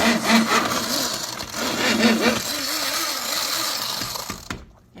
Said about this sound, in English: you just whiz it gently, just like that.